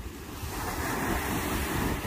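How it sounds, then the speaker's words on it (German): Strong wind roars across a stormy coastline with surf crashing nearby, a steady, loud broadband rush with buffeting against the microphone and no voices. "Durch den Wind ist es immer ein bisschen schwierig zu reden."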